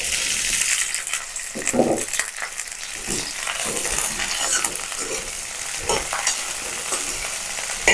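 Okra coated in gram flour, chili and yogurt fries in a little oil in a pan, giving a continuous close sizzle broken by scraping, stirring clatters and a few sharper knocks.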